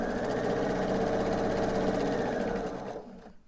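A sewing machine stitches a 1/4 inch seam on quilt block pieces, running in a steady, continuous mechanical hum for about three seconds before winding down and stopping at the end.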